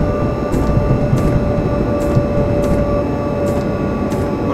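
An Intercity train rolls loudly through a short station on the Berlin to Wittenberg line, a close steady rumble with a sustained tonal whine and regular rhythmic wheel clacks over rail joints.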